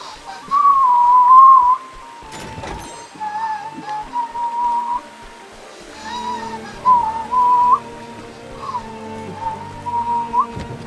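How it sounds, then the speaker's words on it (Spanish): A person whistles a wavering melody in bursts, near and fairly loud, over a soft rain-like backdrop while playing the video game Octopath Traveler. "yo creo que suena culero el chiflido que hago"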